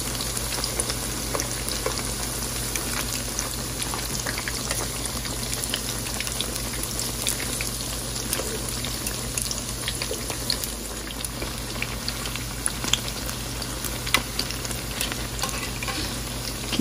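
Battered tempe mendoan fries in hot oil until crisp and brown, a loud, steady sizzle and bubbling that runs unbroken throughout with occasional faint clinks.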